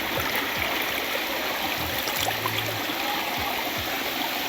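Water rushes in a stream at Anantagiri Hills in a steady, close, continuous flow with soft gurgles and splashes and no voices.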